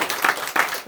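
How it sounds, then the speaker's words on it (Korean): A church congregation at Sunday worship clapping to welcome a returning deacon, a short burst of dense applause with two swelling peaks, heard close in a room. "우리 한번 박수 한번 하겠습니다"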